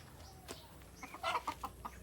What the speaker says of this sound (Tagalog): Ang daming mga manok.